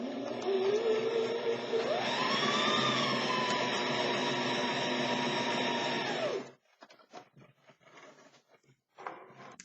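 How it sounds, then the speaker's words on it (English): A sewing machine runs a quarter-inch seam while piecing quilted pot holder triangles, a steady loud mechanical whir with rising motor pitch that stops abruptly, followed by faint handling clatter. "So let's go over to the sewing machine and do it together."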